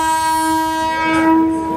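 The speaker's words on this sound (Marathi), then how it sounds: "पुढे दिसते ती मित्रांनो Miraj Kurduwadi holiday special train आहे" A Miraj–Kurduvadi holiday special train at a railway station sounds a loud, steady horn that holds one sustained tone with rich overtones, alone and without talk.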